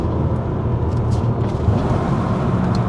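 A BMW E92 M3 with a custom exhaust and its valves closed gives a subdued, steady broadband drone from inside the moving car, with no talking.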